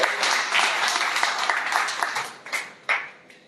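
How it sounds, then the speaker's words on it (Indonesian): A church congregation applauding during a worship service, dense clapping that starts full and thins out into a few scattered final claps, with no voices on top. "Tepuk tangan bagi Allah kita."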